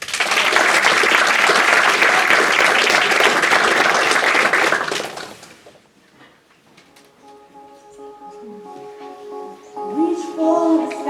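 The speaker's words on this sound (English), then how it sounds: "show our appreciation with a round of applause" An audience at a children's workshop event claps in loud, dense applause for about five seconds. The clapping then fades out and gives way to quiet music and singing.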